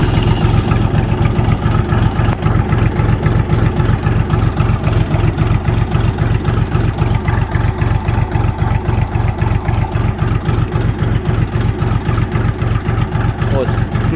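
A mini tractor powered by a KM385BT engine drives over rough off-road ground, its diesel engine chugging steadily and loud throughout, with a rapid even pulse and no pauses.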